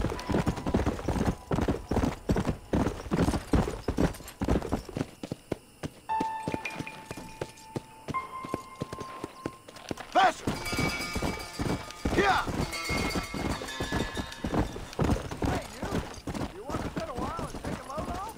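Horse hooves clip-clopping in the Western video game Red Dead Redemption, steady rhythmic hoofbeats with a brief neigh, game music and voices talking over parts of it.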